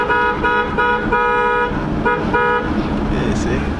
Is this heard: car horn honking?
yes